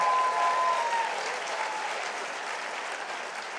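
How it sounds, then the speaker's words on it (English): Steady applause from a crowd fills the clip, loudest at first and tapering slightly as it continues. "One more round of applause for my good friend Richie Torres"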